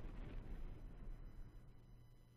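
A tremendous explosion in the Steins;Gate visual novel, heard as a sustained low rumbling roar with a heavy blast of air that stays loud and dense throughout, with no speech over it.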